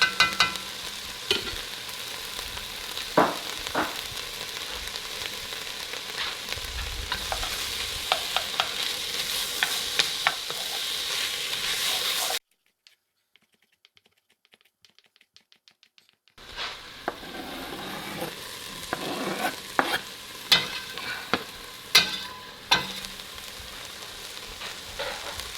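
A vegan hamburger helper mixture sizzles steadily in a pan, with frequent scraping and clinks from a spoon stirring it. A few seconds of near silence fall midway, then the frying and stirring resume, with no talk over it.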